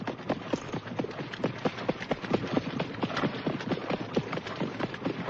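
Horse hooves clip-clop at a steady, quick rhythm, a string of sharp clear strikes continuing throughout.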